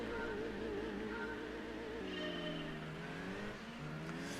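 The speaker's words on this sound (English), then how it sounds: "Listen to that engine purr." A highly tuned Mitsubishi Lancer in Gran Turismo 2 on the Rome circuit, its engine revving steadily and rising in pitch, loud and close, with brief tire noise near the end.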